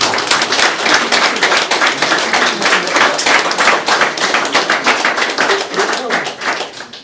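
Clapping from the audience at an inauguration in Loos, made up of many distinct hand claps in a quick, uneven rhythm, loud and close, sustained for several seconds before tapering slightly.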